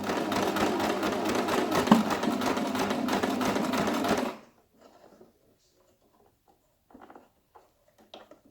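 A sewing machine sews the sides of a cloth face mask in a loud, fast, chattering run of about four seconds, then stops abruptly. Faint handling rustles and clicks follow.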